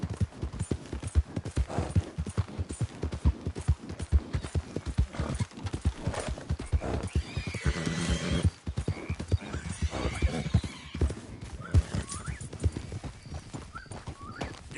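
A horse in the video game Red Dead Redemption 2 gallops with a fast, rhythmic clip-clop of hooves throughout, punctuated by a loud neigh partway through.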